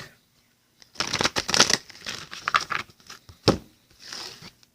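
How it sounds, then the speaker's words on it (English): Playing cards riffled and shuffled in several quick bursts, close and crisp, with brief pauses between them and no talking. "Shuffle this deck."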